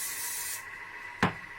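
A short burst of spray oil hisses onto layers of filo pastry, followed by a brief soft tap or rub, close and fairly quiet.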